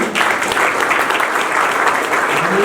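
A crowded hall at an entrepreneurs' gathering breaks into loud, sustained clapping that fills the room, with a voice briefly rising over it toward the end.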